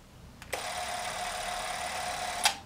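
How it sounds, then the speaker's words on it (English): Small Sankyo Super 8 autofocus camera with its film motor running, a steady close whirring buzz that starts abruptly, holds evenly for about two seconds, then stops with a faint click. "And of course the motor runs."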